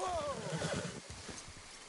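A horse in Red Dead Redemption 2 gives a brief whinny and snort, followed by soft hoof clops at moderate volume, with faint muffled sounds underneath.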